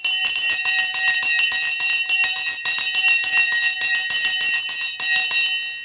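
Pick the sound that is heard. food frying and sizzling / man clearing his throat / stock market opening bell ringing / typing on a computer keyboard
stock market opening bell ringing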